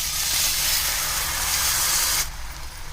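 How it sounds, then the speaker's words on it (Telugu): Soaked moong dal tipped with its soaking water into a hot curry-leaf tempering for a fresh coconut fry, giving a loud, steady steaming hiss and sizzle that cuts off sharply near the end, leaving quieter bubbling. "కరివేపాకు కాస్త వేగిన తర్వాత నానబెట్టుకున్న పెసరపప్పుని నీళ్ళతో సహా వేసేసుకోండి"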